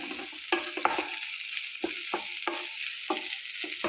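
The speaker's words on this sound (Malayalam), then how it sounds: "നമുക്ക് ഇതിലോട്ട് അല്പം പച്ച വെളിച്ചെണ്ണയും കൂടി ഒഴിച്ച് കൊടുത്ത് നമുക്ക് കംപ്ലീറ്റ് ചെയ്യാം" Spoon scraping and stirring spicy brinjal stir-fry in a pan after raw coconut oil is added, soft repeated scrapes at an uneven rhythm over a steady faint sizzle, close and fairly quiet.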